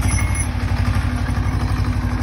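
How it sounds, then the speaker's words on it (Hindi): A tractor hauls heavy supplies down from a temple on the mountain trek trail between Phata and Gaurikund toward Kedarnath, its engine chugging close and steady in a low, continuous rumble with faint clatter throughout. "ये ट्रैक्टर जो आ रहा है भाई ये ऊपर मंदिर से आ रहा है"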